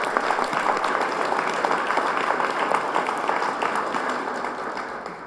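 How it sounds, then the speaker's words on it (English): Dense, steady applause from an audience at a Wichita entrepreneurship evening fills the whole stretch, loud and continuous, easing only slightly toward the end. "So please, give yourselves a round of applause."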